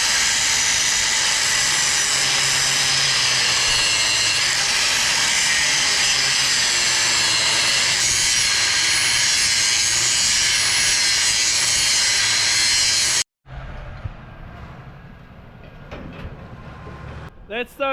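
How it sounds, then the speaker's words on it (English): An angle grinder cuts steel out of a beam in a loud, continuous, high-pitched grinding whine that runs steadily for about thirteen seconds, then stops abruptly, leaving quieter background noise. "grind all of that steel out all the way through and put a big V in that beam"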